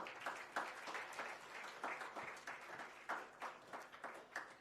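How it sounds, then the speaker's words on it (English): Guests at a swimming awards ceremony clap for Ramudi, a quiet but steady round of applause from a modest crowd, pulsing slightly in waves and continuing unbroken with no speech. "Can we have a round of applause for Ramudi?"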